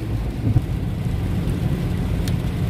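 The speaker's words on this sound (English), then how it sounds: "it is obviously another um, rainy day here in central Ohio" Steady rain drums on a car roof in central Ohio, a dense continuous patter with low rumble underneath and no talking.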